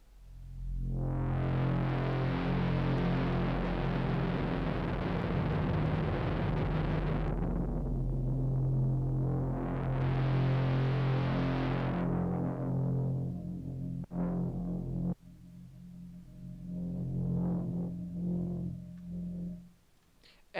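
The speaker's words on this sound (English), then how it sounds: "the reverb signal is still going on even after the decay" A long, swelling Eventide MangledVerb reverb tail on a synth patch in Studio One, building into a dense wash, dipping, then surging again before thinning into a lingering, fading shimmer that keeps ringing after the note decays.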